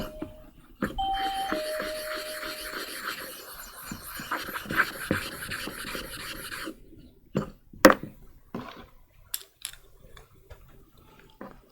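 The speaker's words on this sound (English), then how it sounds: "Those bells, that's the staff just leaving." Door bells ring in a Japanese printmaking studio as staff head out: a few clear chimes near the start, then scattered rubbing and clattering knocks in a quiet room with no talking.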